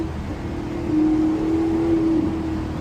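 A Maserati GranTurismo with a naturally aspirated V8 holds a steady, smooth engine drone at moderate volume, swelling slightly partway through.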